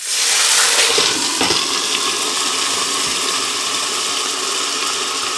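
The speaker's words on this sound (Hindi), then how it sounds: "थोड़ा सा पानी डाल देंगे" Water runs steadily into a cooking pot of garlic for a chicken and pea pulao, a continuous close pouring hiss with a brief splashy onset that holds at an even level throughout, with no talking.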